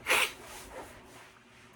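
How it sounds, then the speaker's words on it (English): A single sharp human sneeze bursts out at the start, close and fairly loud, followed by a faint breathy sound and a brief click near the end. "I'm gonna sneeze."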